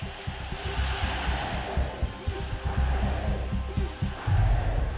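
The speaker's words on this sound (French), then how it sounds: "une foule massive se presse dans le Sportpalast de Berlin" Massive crowd packed into Berlin's Sportpalast waiting for Hitler's speech, a dense murmur of many voices with bursts of louder shouting and rising swells near the end.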